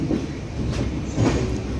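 A train rolls into Guntakal Junction railway station on a first run of the extended Tirumala Express from Kadapa, with a steady rumble and rhythmic clacking of wheels over rail joints, close and continuous.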